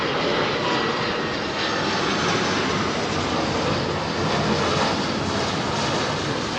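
A Sri Lankan Airbus A330 jet comes in to land at Heathrow, its engines producing a loud, steady broadband roar that holds constant throughout, close and unbroken.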